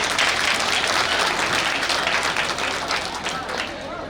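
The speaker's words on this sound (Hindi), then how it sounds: "जोरदार तालियां।" Loud, sustained applause from a large crowd at a Buddhist wedding, dense steady clapping that slowly thins toward the end.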